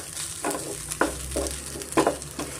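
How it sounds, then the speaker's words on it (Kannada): Onions for onion chutney fry in a pan over a medium flame, with a steady soft sizzle under a few louder scraping stirs spread across the moment. "ಆದಷ್ಟು ಮೀಡಿಯಮ್ ಫ್ಲೇಮಲ್ಲೇ ನಾವು ಆನಿಯನ್ನ ಫ್ರೈ ಮಾಡ್ಕೊಬೇಕಾಗುತ್ತೆ"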